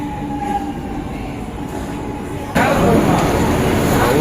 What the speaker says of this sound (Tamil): விம்கோ நகர் பணிமனை மெட்ரோ செல்லும் அடுத்த ரயில் 6ஆம் நடைமேடையில் வந்து